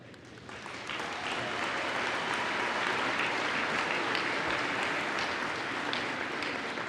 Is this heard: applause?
yes